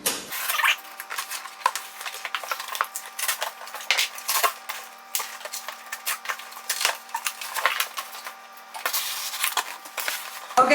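A small knife scraping and slicing through tape and packaging on a Christian Dior parcel held in a lap, giving close, irregular crinkly cuts and rustles with no talking.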